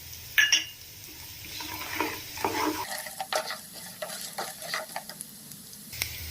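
Cumin and coriander seeds frying in a pan, a steady close sizzle with scraping stirs and brief clinks throughout, no talk.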